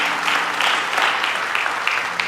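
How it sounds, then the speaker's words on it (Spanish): A church congregation claps loudly for the Lord after a prayer in a Spanish-language service, a dense sustained wash of applause with a few sharper claps, no speech over it. "Le damos un fuerte aplauso al Señor."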